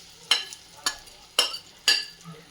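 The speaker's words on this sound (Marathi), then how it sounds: "हा मसाला सुद्धा छानपैकी आपल्याला परतून घ्यायचा आहे आणि ह्या मिरच्या या मसाल्यासोबत छान एकजीव करून घ्यायच्या आहेत" Stuffed green chillies coated in leftover masala are stirred in a pan, with four sharp scraping stir strokes spaced about half a second apart over a soft sizzle.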